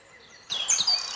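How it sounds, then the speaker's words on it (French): A green woodpecker near a castle in a cold winter forest gives a brief, high call that stands out clearly over quiet background ambience. "Je suis accueilli par un pic vert qui a son territoire autour du château."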